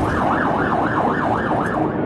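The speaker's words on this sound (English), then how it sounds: "A night of horror in Beirut, with sirens blaring into the next morning." Emergency vehicle siren in Beirut after the port blast, a loud wailing tone rising and falling in a quick, even cycle over street rumble.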